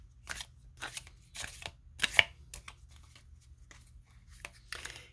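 Tarot cards being shuffled by hand in quiet: soft, papery riffling bursts repeated in an irregular rhythm, close and faint.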